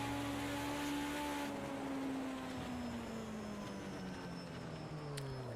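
A BMW 320 Turbo in Project Cars 2 at Bannochbrae runs flat out down the start-finish straight, its engine a loud steady drone with the pitch climbing and easing through gear changes, alone with no talk.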